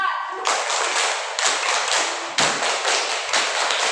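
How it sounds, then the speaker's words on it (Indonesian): Pupils in a classroom doing a patterned group clap, bursts of many hands struck together in a regular rhythm with short breaks between groups of claps, close and loud with a voice at the start. "ya kita beri tepuk tangan segi 4"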